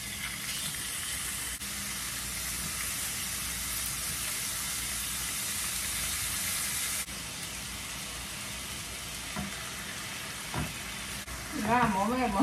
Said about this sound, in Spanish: Vamos a agregar un poco de aceite a nuestra cazuelita donde vamos a freír la cecina.